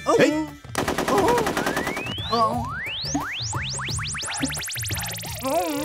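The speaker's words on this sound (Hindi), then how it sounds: "गन चला रहा है" Gunfire in a Hindi-dubbed love story film: rapid machine-gun bursts roll through a busy, layered soundtrack, with loud stretches at the start and end and sweeping synthetic effects in between, and no voices over it.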